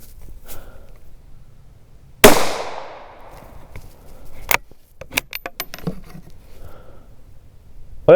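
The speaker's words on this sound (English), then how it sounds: "let's shoot a group with this and see if this is any better" A .17 HMR rifle fires one sharp, loud crack at a target, followed by a brief ringing decay and then a run of small metallic clicks and handling noises nearby, with no speech.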